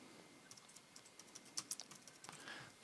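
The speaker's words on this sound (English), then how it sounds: "You can then start to type the channel name" Quiet computer keyboard typing as a channel name is entered, a short run of light, irregular key taps close by, with a few sharper clicks near the middle.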